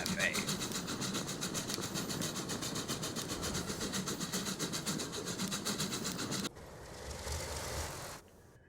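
Diesel locomotive running in the Transport Fever 2 game, likely an Alco FA, a steady rhythmic clatter and engine drone that cuts off abruptly, then a quieter rushing stretch before fading out.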